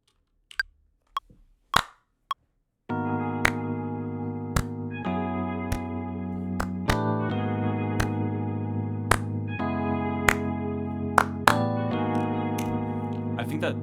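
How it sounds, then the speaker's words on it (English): Sharp hand claps in an untreated room, a few isolated loud claps ringing briefly in the room's natural reverb, followed by a sustained musical backing with more claps landing on top. "Let's record some claps here."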